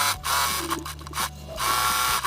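A sewing machine stitches along the edge of a fabric strap for a car trash bag holder, running in close motorized bursts with short pauses between runs.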